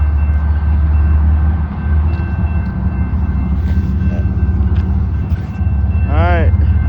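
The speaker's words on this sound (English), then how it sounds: "Alright guys, we got a train." Continuous loud rumble and rolling noise of a night train passing close by, with a brief horn-like tone near the end and talk over it.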